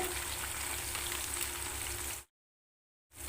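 Okra and chilli powder sizzle steadily in a hot pan, a close, even frying hiss that cuts out abruptly to silence and returns just at the end.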